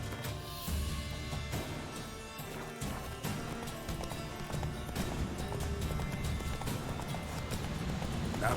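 Roach the horse from The Witcher 3 gallops in a rapid, steady clip-clop of hooves over game music, with a brief whinny, heard up close throughout.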